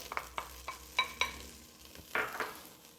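Chopped spring onion sautés in melted butter, a soft, quiet sizzle broken by several light spatula taps and scrapes spaced across a few seconds.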